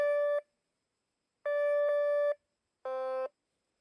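Three sustained electronic tones from a metal detector giving false signals over empty ground at high sensitivity sound one after another with pauses between, each a steady buzzy beep lasting under a second.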